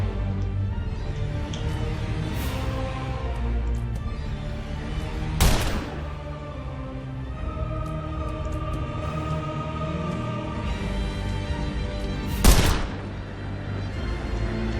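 Gunfire from the video game The Lamplighters League: two sharp, loud shots several seconds apart stand out over a steady background of game ambience and rumble.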